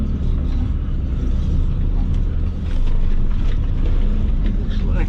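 A trash-hauling truck creeps forward and climbs onto a ramp at sunrise, a heavy, steady engine rumble filling the whole stretch with rough wind-like noise and no clear voices.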